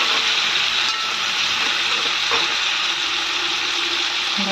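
Broiler chicken meat frying in a pan with onion, ginger, garlic and chilli, a steady loud hiss of sizzling oil that holds constant throughout with faint stirring scrapes.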